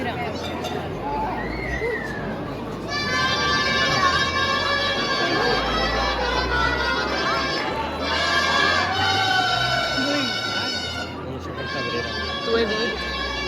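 A large outdoor crowd at a giants and big-heads festival cheers and claps, a broad wash of shouting, whistling and applause swelling and easing in waves, with voices and children's cries mixed through it.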